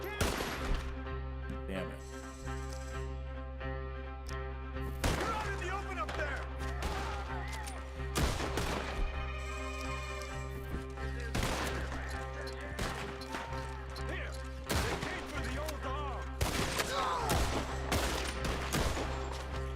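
Repeated gunshots in Red Dead ring out in scattered bursts and volleys over a steady low hum, with someone talking and shouting in between.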